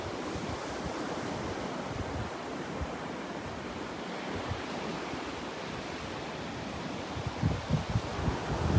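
Waves wash in and pull back on Vanderbilt Beach, a broad rushing surf with wind buffeting the microphone, swelling louder toward the end.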